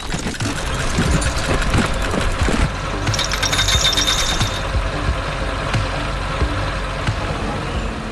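Animated excavators digging a pool for a beach house clank and rattle with ratcheting, gear-like mechanical noise over a low engine rumble, with a brighter metallic burst midway.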